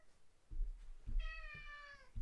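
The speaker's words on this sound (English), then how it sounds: "My little kitty cat." A cat gives a single clear, fairly close meow partway through, heard alone over quiet low background rumble and soft thumps.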